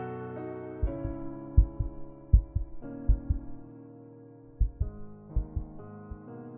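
A heartbeat sound effect in a horror audiobook thumps in slow, paired beats, loud and close, over a sustained eerie drone that shifts pitch in steps.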